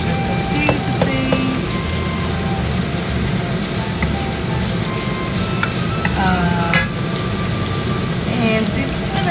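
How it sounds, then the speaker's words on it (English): Lumpia filling sautés in a pan with a steady, close sizzle and occasional clinks and scrapes of a utensil stirring, continuous throughout at moderate loudness, with a low background hum. "just saute"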